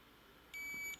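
One sustained high electronic beep from a KR-S80LC card keypad when a user card is presented, close and clean, followed by a short sharp click or knock at the end.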